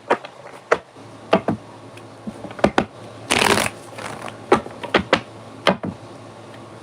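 Tarot cards shuffled for a reading, a series of crisp riffling snaps and slaps at irregular intervals, with one longer burst of flicking cards in the middle, close and clear.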